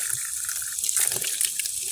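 Hot water running from a kitchen tap, a steady hissing splash at moderate level with faint drips, continuous throughout with no talking.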